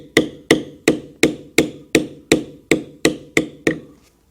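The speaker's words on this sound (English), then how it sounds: "will take our tool and we will tap it and walk it." A leather tooling tool tapped with a mallet, about eleven evenly spaced sharp knocks close up at roughly three per second, each decaying quickly, with no talk.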